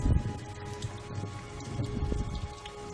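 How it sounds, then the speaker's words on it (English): Steady rain in Batman: Arkham Asylum, a dense hiss of drops pattering on surfaces throughout, with low rumbling undertones in a dark, stormy game setting. "Okay, it's dark, it's rainy."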